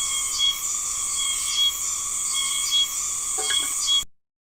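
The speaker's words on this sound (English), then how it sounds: "we get these really, really bright bands of kind of greenish biotic sound in the summer, which are caused by these really loud cicada choruses" A loud summer cicada chorus in Okinawa hums as a continuous, shrill, layered buzz with slight pulsing, steady in level until it cuts off abruptly near the end.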